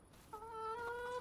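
Chickens on a farm in the Farming Simulator video game, a single drawn-out tonal hen call rising clearly over a quiet background, close and fairly faint.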